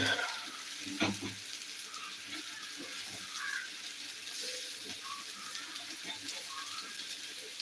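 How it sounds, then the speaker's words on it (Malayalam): Chicken fry sizzling and being stirred in a hot pan, a steady hiss of frying with occasional scraping knocks from stirring, moderately close and continuous. "നന്നായിട്ടൊന്ന് ഇളക്കി കൊടുക്കുക"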